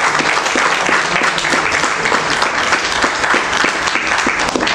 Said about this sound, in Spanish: Sí, aplaudémoslo, por favor.